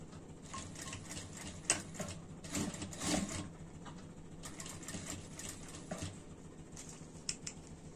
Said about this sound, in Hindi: और एक पैर की सिलाई लगाएंगे।